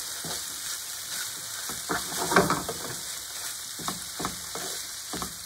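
Shrimp sizzle and fry in a pan while being stirred, a steady crackling hiss with scraping stirring clicks and occasional louder spatters, close and alone.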